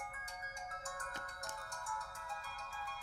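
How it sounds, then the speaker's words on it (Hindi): A mobile phone ringtone plays for an incoming call, a steady melodic electronic tune with repeating bright notes, fairly loud and close, with no talking over it. "सॉरी सर, माँ का फोन है।"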